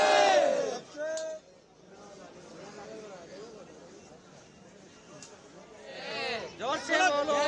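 A dense crowd of devotees at the Mata Vaishno Devi temple in Katra, Jammu and Kashmir, on Mahanavami during Navratri. Loud massed voices shout together at the start and end, with a steady crowd murmur between.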